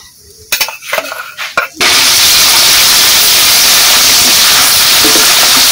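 Chilli, onion, garlic, ginger, cumin and coriander paste drops into a hot pan with whole cumin and dried chilli, opening with a few clinks and scrapes, then bursting into a loud, steady hissing sizzle that carries on to the end.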